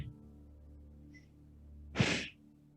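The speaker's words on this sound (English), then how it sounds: "one more big breath here" A single deep breath during a back-care yoga stretch, a short audible breath near the end under a faint background hum, with no talking.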